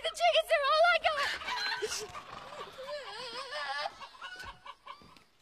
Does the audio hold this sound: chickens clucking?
yes